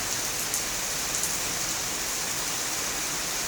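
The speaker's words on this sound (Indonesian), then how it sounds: "beneran ini hujan turun" Heavy rain pours steadily and close by as someone waits for a bus, a dense, even hiss of drops with no pauses and no voices.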